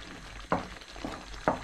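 Taro leaf curry with olives is mashed and mixed in a pan, three quick scraping strokes over a soft sizzle, close and alone.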